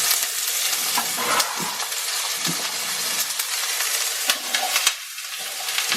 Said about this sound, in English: I'm going to put the carrots and the onions and potatoes all together